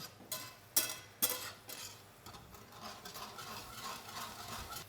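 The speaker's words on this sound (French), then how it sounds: "Vous pouvez y ajouter donc vos échalotes et on va laisser réduire un tout petit peu" Shallots reducing in a deglazed pan sauce for veal rolls give a soft, uneven sizzle, with a few sharp clicks and scrapes of a utensil against the pan near the start.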